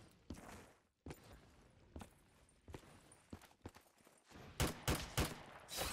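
Sharp gunshot bursts in irregular clusters, some rapid and overlapping, separated by short quiet gaps, from a Call of Duty Zombies-style mode with an AK-74u.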